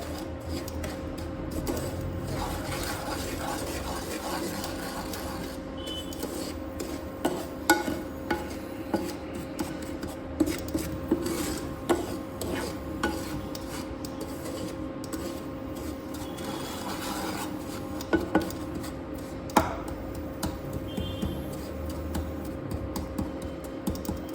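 Semolina frying in ghee for Bengali sujir payesh, stirred steadily in the pan with a soft continuous rasp and scrape, broken by small sharp clicks of the spoon against the pan, close and moderately loud throughout.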